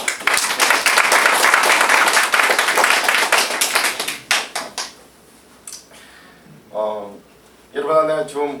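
Congregation in a Korean church service bursts into dense, loud applause for about four seconds, then it tapers into scattered claps before a voice speaks.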